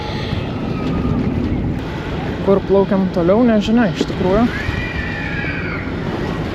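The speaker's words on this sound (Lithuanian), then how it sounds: "Šiandien daug vėjo." Strong wind buffets a boat near Stockholm, a constant roar of gusts and water noise beneath a voice speaking over it.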